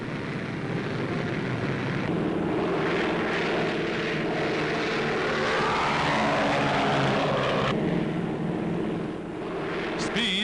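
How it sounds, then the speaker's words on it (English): A twin-engine wooden de Havilland Mosquito bomber flies overhead, its propeller engines droning steadily and loudly throughout, with the pitch shifting as it passes. "Even when flying on only one of its powerful twin motors, Canada's Mosquito bomber carries a deadly sting."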